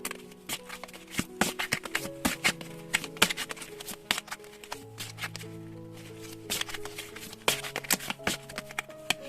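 Tarot cards shuffled by hand for a reading, a steady run of crisp riffling and sliding card taps continuing alone for several seconds with no talk.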